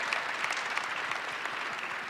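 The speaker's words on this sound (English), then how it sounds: "Can we get a round of applause for our panelists?" Conference audience applause for a panel at a summit: brief, steady, dense clapping at moderate volume throughout, with no voices standing out.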